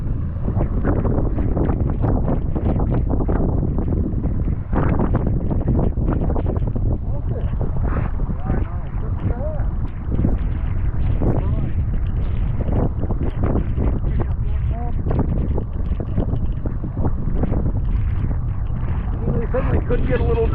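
Small fishing boat moving across a windy Maine lake on a cold, drizzly day, with steady rumbling wind buffeting the microphone and water noise throughout, and people talking intermittently.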